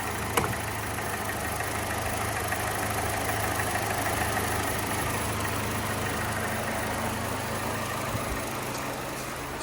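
A used car bought cheaply at a dealer auction idles steadily, a constant low engine rumble running evenly and alone at moderate level with no talk.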